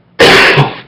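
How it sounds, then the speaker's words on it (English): A single loud, harsh cough from a bad cold bursts out close up after a moment of quiet, then trails off. "I get a nasty cold cough"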